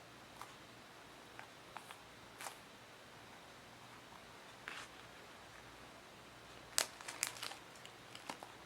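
Plastic packaging around a Sanrio Hello Kitty shortcake squishy toy crinkles in scattered soft rustles, with a brighter burst of crumpling near the end, all quiet and close with no talking.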